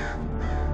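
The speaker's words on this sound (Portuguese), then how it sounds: "os corvos tá comendo ele agora" Crows caw loudly and continuously over the carcass of a dead man in the Wild West video game GUN, a dense, harsh layer of calls that fills the short moment.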